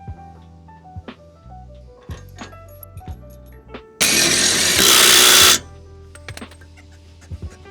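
A power tool tightens an M16 high tensile bolt on a tow hitch in one loud burst of about a second and a half. Scattered metallic clinks and handling knocks come before and after it.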